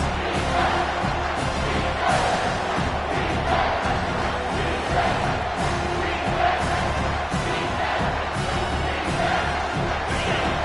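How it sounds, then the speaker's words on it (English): A football stadium crowd roars steadily for the defense on third down, a dense, sustained wall of cheering and shouting heard from within the stands. "this crowd will blow out a vocal cord to help this defense"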